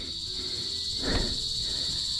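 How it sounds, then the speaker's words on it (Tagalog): Crickets shrill in a constant high, even chorus at dusk in the countryside beside a cornfield at harvest. A brief soft rustle passes midway, and no one speaks. "Tumutunog na yung kuliglig."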